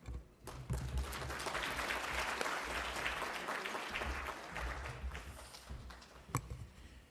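Audience applause at a Right Start programme relaunch event, a long, steady burst of clapping from a crowd filling the room, loud and continuous with a few sharper claps standing out near the end.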